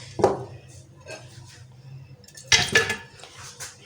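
Beef trotters dropped into a metal pressure cooker for paya, two clattering metallic clunks with lighter rattles between them, close and fairly loud against a quiet kitchen background.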